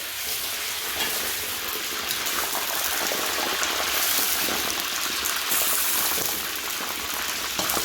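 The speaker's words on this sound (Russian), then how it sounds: "Сперва обжаривается мясо" Meat frying in a pan as the first step of Kyrgyz pilaf, a steady, close sizzle with crackling and bubbling that holds at an even level throughout, with no voices.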